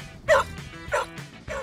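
A trained rescue dog, one learning to search rubble and find lost people, gives three sharp barks spaced roughly half a second apart, fairly close and alone with no talk.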